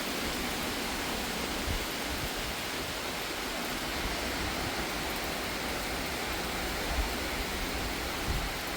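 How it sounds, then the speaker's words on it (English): Steady, dense hiss of heavy rain pouring continuously during a storm with strong winds, a broad wash of noise with no voices and only faint low thumps. "But you can see how hard it's raining."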